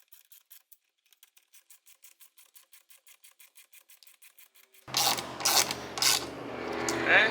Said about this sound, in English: I'm going to go ahead and tighten this down